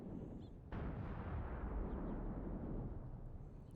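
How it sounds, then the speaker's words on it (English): A big explosion in the tank warfare game Graviteam Tactics Mius Front sets off abruptly with a heavy, deep boom, then rolls on as a long, loud rumble that fades only slightly over several seconds. "That was a big explosion."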